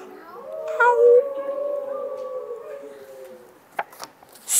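A human voice imitating a wolf howl, a long sustained rising and gliding tone held for a few seconds, close and clear, followed by a couple of short knocks.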